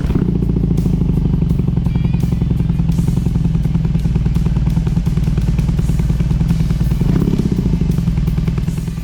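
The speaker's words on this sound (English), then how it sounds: "The boxer engine is such a wonderful sound" A custom BMW R18 motorcycle with its boxer engine running, a loud, close, steady low throbbing idle with mechanical clatter and a brief rev, with no talking.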